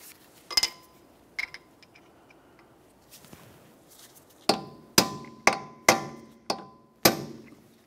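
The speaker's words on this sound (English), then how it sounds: "You have to use a hammer and punch and drive the axle nut down into this area." Hammer and punch striking an axle nut to stake it into the notch on the front left CV axle of a 2003-2007 Honda Accord: two early taps, then six loud, sharp metallic blows in steady rhythm, close by, with no talk.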